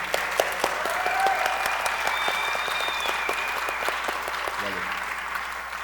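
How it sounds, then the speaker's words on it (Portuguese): Applause from a panel audience at a Brazilian conference session on data education for inclusion, a steady crowd of clapping hands at moderate loudness with a faint tonal whine drifting over it and a brief voice near the end. "Salva de palmas, né, gente?"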